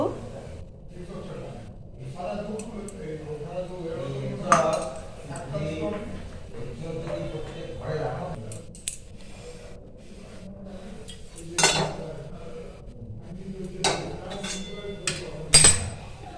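A metal wok set on a kitchen stove for frying egg pieces, with a few sharp clinks and knocks of metal pans at scattered moments, between stretches of talk.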